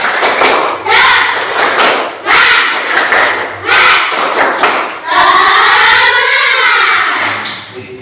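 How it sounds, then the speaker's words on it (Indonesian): A classroom of students doing a rhythmic spirit clap: loud, sharp group claps in repeated bursts, with children shouting along between them, ending in a sustained collective chant. "Coba kita tepuk semangat dulu."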